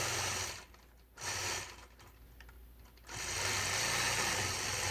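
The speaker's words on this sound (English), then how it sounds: "I'm going to travel to the center where I'll stitch in the ditch around that center block." Sewing machine stitching in the ditch around a four-patch center block while machine quilting a sawtooth quilt, a steady motor whir that drops away twice in short pauses before running on continuously, with no talking.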